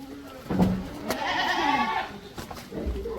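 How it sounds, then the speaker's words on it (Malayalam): Native-breed goats on a farm, a large adult with its young, bleat in short calls close by among rustling and faint background noise. "ഇത് കണ്ടോ ഇതൊരു വലിയ ആട് നിൽപ്പുണ്ട് അവിടെ അതിൻ്റെ ചെറിയ ആടുകളുണ്ട്"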